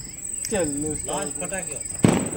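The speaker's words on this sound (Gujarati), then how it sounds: "છેલ્લો સ્કાય શોટ હે" A Diwali sky shot firework launches and bursts, a sharp crack late in the clip after a faint earlier pop, while people talk excitedly over it.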